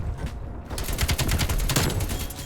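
Rapid AK-47 automatic fire in the shooter game Black Ops Cold War, a loud, close, steady stream of shots lasting a couple of seconds.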